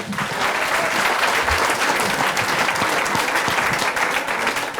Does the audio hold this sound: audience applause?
yes